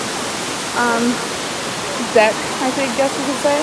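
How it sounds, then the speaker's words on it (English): A small waterfall at Amicalola Falls gives off a steady, even rush of falling water throughout, with people talking over it close by. "There's that little waterfall"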